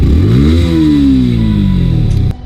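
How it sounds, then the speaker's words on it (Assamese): A Yamaha R15M motorcycle's exhaust revs hard close by: one rising, roaring burst that holds high and then drops sharply near the end, with no talk over it. "এক্সজষ্ট নোটটো একবাৰ শুনাই দিওঁ"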